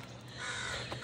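A crow caws once amid steady outdoor street noise in downtown Vancouver, the call rising briefly near the end over a continuous background hum.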